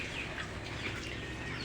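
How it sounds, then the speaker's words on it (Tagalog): Faint broiler chickens cluck and chirp now and then against a steady, noisy outdoor background. "Ito, mga manok ko rin ito."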